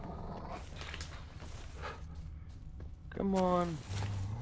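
Wolves approaching in the Witcher 3 video game, with a low growling snarl rising close by near the end over continuous game ambience and rustling.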